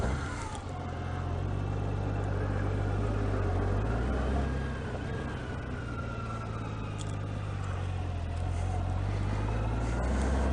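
An Endeavor reverse trike drives along a rustic road, its engine droning steadily with rising and falling revs over constant road and wind noise.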